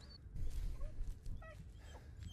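A dog whimpers in the video game Blair Witch: several short high-pitched whines and yelps over a low rumbling background, fairly close, with no talking.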